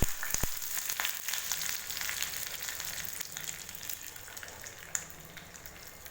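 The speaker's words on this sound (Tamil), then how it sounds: "வெந்தயம் கடுகு பார்த்திங்கன்னா பொரிஞ்சிட்ருக்கு" Mustard seeds and fenugreek splutter in hot oil for a curry: a soft, continuous sizzle dotted with small crackling pops and occasional sharper snaps, close and fairly quiet, with no voices.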